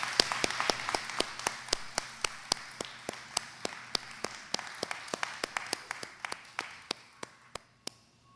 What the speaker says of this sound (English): I think maybe we should have a round of applause for the time capsule.